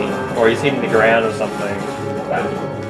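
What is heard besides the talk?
dog barking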